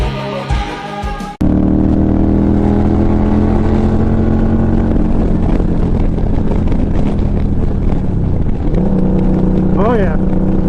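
Indian Scout Sixty motorcycle accelerating on the road at over 5,000 rpm, a loud, continuous engine drone with rising pitch and heavy wind rush after a short spoken opening.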